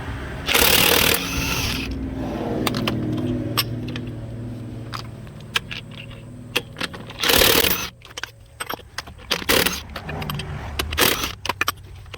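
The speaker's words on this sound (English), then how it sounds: "got to use a different type of socket and whatnot to remove them, because they're keyed lug nuts" Ratchet with a keyed lug nut socket loosening lug nuts on aftermarket wheels of a 2003-2009 Dodge Ram heavy-duty truck, giving quick close metallic clicking runs and clanks with bursts of louder rattling, no talk.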